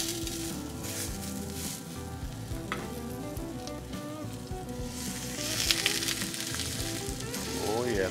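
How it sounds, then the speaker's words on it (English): Steaks sizzle and spit steadily on a hot pellet smoker grill during a reverse sear, a loud, continuous crackling hiss with occasional sharper pops. "Oh yeah, listen to that sizzle."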